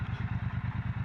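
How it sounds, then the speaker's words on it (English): A Triumph Speedmaster motorcycle engine thumps along at a steady, even pulse on the stock exhaust, a deep low rumble heard close and moderately loud, with no talking. "The exhaust note sounds pretty good on this."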